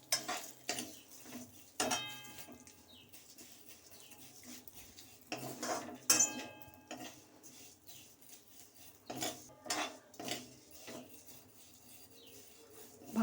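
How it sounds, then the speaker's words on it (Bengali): A utensil stirs fried vermicelli in a pan, giving a string of quiet scraping and clinking strokes at an uneven rhythm, close and fairly soft, with no talking. "এই ভাজা সিমুইটা একটু ভেজে নেব"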